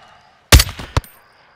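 Sniper rifle fire in Call of Duty: Modern Warfare II: one loud, booming shot up close, a sharp crack a moment later, then the start of another.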